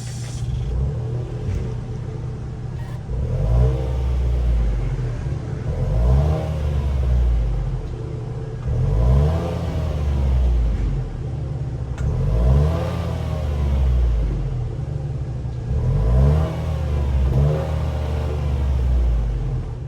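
A 1.5-liter three-cylinder turbo engine in a 2023 Nissan Rogue S AWD revs repeatedly, rising and falling in steady cycles every few seconds, close and loud with a low rumbling idle between pulls.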